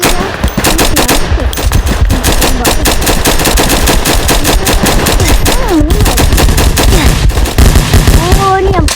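Sniper rifle fire in a Roblox shooting game comes as dense, loud, rapid shots packed in close succession for the whole stretch, with a voice briefly audible beneath the barrage.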